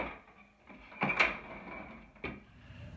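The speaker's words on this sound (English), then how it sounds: "and you can replace your drawer by." A drawer slides back into the three-drawer storage unit beneath a captain day bed, with a soft scrape and a clear knock near the middle, then a second bump as it settles home, close and moderately loud.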